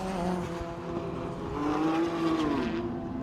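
White and black BMW 330i saloon race car at Kirkistown circuit, engine droning steadily with harmonic tones rising and falling as it approaches a chicane, continuous and moderately close throughout.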